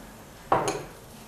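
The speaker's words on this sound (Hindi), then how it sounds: "और उसको चला देंगे पानी को।" A single short clatter of a utensil against a cooking pot of salted water with asafoetida, stirred while preparing dahi vada, sharp and close, alone in a quiet room.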